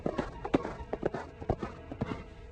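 Hooves clip-clop in an uneven, quick rhythm as a horse moves along, a steady run of thuds and knocks close by with no voices.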